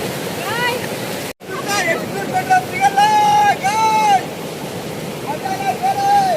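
Heavy rain hisses steadily on the way to a waterfall, loud and close, while people call out and talk over it.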